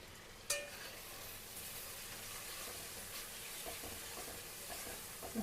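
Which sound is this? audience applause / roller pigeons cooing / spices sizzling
spices sizzling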